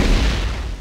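A plasma rifle fires in a video game, a single deep booming discharge that sounds close and loud and trails off over under a second.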